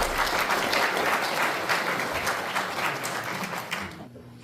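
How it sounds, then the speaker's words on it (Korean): Applause from an audience at a commemorative ceremony for the 106th anniversary of the Korean Provisional Government, a dense, steady round of clapping that runs loud and fades slightly before cutting off abruptly at the end. "올라오실 때 큰 박수로 환영해 주십시오"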